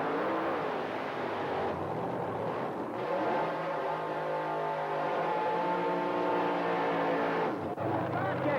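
A supercharged outlaw door slammer and a funny car race side by side at an 1980s Australian drag strip, engines roaring loud and steady with shifting harmonic pitch, a commentator talking over the din.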